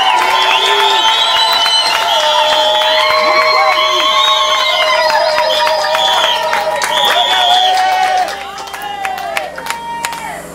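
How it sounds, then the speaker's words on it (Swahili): A packed church congregation at an episcopal ordination breaks into loud, high-pitched trilling ululations mixed with clapping and cheering, sustained for several seconds before thinning out near the end. "ongeza vikelekele na makofi"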